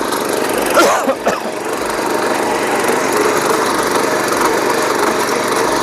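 A power weeder with two shock absorbers runs in a farm field, a loud continuous engine drone with a few rattling knocks early on, close and unbroken.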